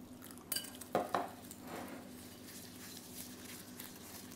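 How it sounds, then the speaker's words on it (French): A small whisk stirs protein powder into a little water in a salad bowl, giving a few quiet clinks and scrapes early on, then a soft, steady stirring rustle. "un petit fouet magique"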